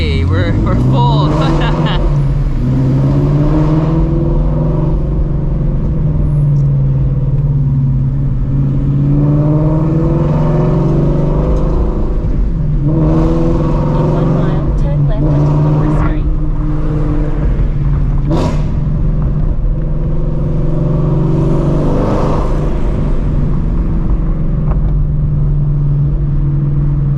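Shelby GT350 with straight pipe exhaust driving through city streets, a loud, steady engine drone with rising and falling revs throughout, while people talk over it.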